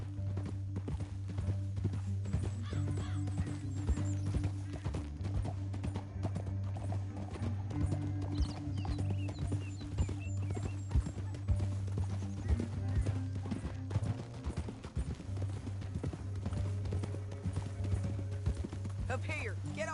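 Horse hooves clip-clop in a steady, continuous rhythm over a low droning hum, with the trotting persisting throughout.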